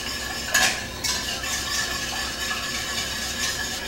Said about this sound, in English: You want to make sure to stir it real good